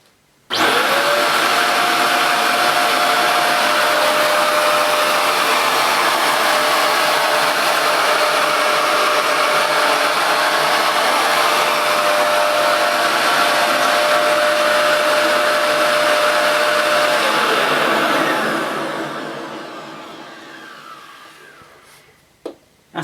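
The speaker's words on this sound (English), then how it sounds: "now we're going to see how this Bissell cleans forward and back with the brush all turned off, as it should be when you're cleaning hard floors" A Bissell Powerglide Lift Off bagless upright vacuum cleaner running on a hard floor with its brush roll turned off, a loud steady close whine and airflow roar that holds evenly for about eighteen seconds, then winds down.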